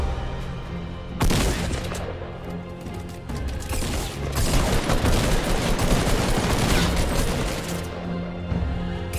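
Gunfire in the Fortnite video game, bursts of rapid shots and booms that start abruptly, ease off briefly, then intensify into dense sustained firing before fading.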